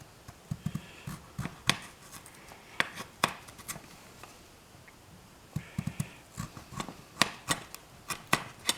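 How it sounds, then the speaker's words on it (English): Peeled apples and potatoes being sliced with a knife, giving faint, irregular taps and knocks on a cutting board with no talk. "cut it to no larger than 1/2 inch"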